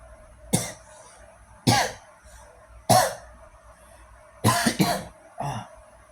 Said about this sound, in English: sorry, it is cough